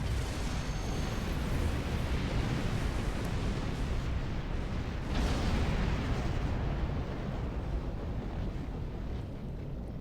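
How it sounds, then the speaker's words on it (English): Remotely detonated charges exploding in the Star Trek Online video game: a loud, continuous roaring rumble of blasts with a fresh burst midway, alone without speech. "Ops, detonate the charges."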